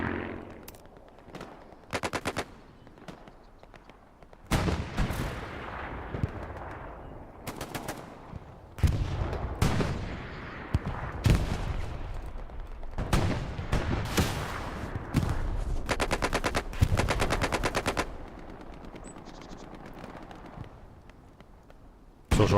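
Strafing-run gunfire in a console military shooter game: repeated loud bursts of rapid automatic fire and sharp blasts separated by short quiet gaps, continuing over about twenty seconds.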